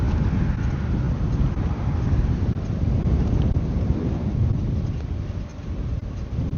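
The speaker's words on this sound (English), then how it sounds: "It is windier than crap right now. This is a great wind test for that mic." Strong wind blasts a DJI Mic Mini while riding, producing a loud, continuous low rumble and buffeting roar that fills the whole stretch with no speech.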